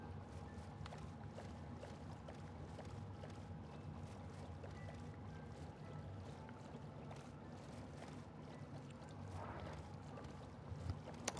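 Boat sailing across water in Minecraft, a steady low rumble of water and wind running continuously at a quiet, even level with no one speaking.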